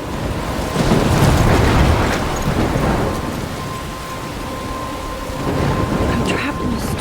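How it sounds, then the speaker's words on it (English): Thunderstorm in the video game Life Is Strange, with heavy rain and low rolling thunder swelling loud and close, easing midway, then rumbling up again near the end. "I'm trapped in a storm?"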